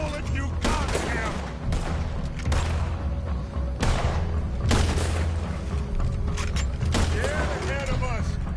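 Repeated gunfire bursts and booming shots ring out in a Red Dead Redemption 2 gunfight, loud and sustained across the scene, with voices talking over the shooting.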